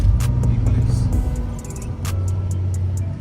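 A box Chevy engine rumbles steadily at close range while driving, a low hum with occasional light clicks and road noise throughout.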